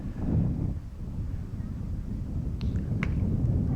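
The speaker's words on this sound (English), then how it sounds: "Windy day out here today." Wind blows across an outdoor baseball field, a steady low rumbling buffet of gusts against the microphone, with faint distant high sounds briefly poking through.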